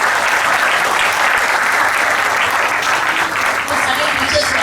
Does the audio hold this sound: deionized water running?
no